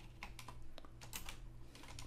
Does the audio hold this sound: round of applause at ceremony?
no